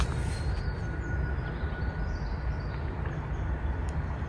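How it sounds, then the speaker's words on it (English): Aeroplanes passing over a spring garden make a steady, broad low roar that fills the whole stretch, loud and unbroken, with faint birdsong barely showing beneath and no talking. "In between the noise of the aeroplanes, you can hear the birds singing."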